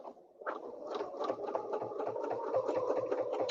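A sewing machine stitching a quilt runs in quick, even bursts of mechanical patter, close and moderately quiet, starting after a brief pause and continuing steadily to the end.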